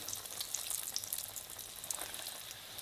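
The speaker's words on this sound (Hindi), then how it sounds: "अब मैं फ्राई करना शुरू करती हूँ।" Coated snack balls deep fry in hot oil over a lowered flame, giving a steady, bright, dense sizzle with fine crackling close by and no voices.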